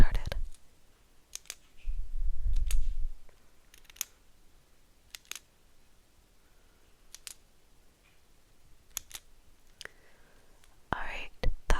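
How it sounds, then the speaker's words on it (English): A pen clicks six times in short, sharp, separate ticks spread unevenly through a hushed stretch, with soft low rustling and breathy handling noise between the clicks. "I want you to tell me how many times I click the pen"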